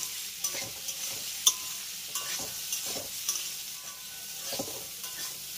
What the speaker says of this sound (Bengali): মিডিয়াম হাই ফ্লেমে আমি সয়াবিনটাকে 3 থেকে 4 মিনিটের মতো একটু ভেজে নেব